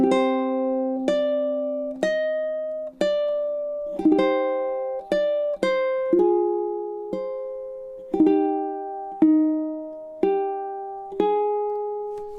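Ukulele chord melody carrying measures 7 to 9 of Sakura, a slow sequence of bright plucked chords and melody notes, each left to ring and decay, played up close with no voices.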